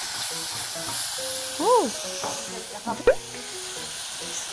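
Minced garlic, bought already ground, stir-frying in a pan with a steady soft sizzle and hiss, heard under people talking and exclaiming nearby.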